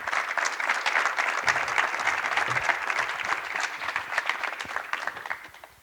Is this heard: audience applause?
yes